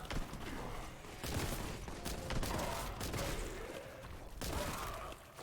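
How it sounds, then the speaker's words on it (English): Bolt gun fire in a Warhammer 40k video game, dense repeated bursts of shots at a steady loud level across the whole stretch, with a brief lull near the end. "Because the bolt gun's just fun."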